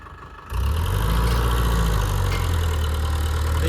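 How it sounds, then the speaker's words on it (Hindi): A Digitrac PP 46 tractor pulling a harrow in high second gear: a quiet start, then a deep steady diesel engine drone that kicks in and runs loud and continuous close by. "हाई के दूसरे गियर में ट्रैक्टर लग चुका है।"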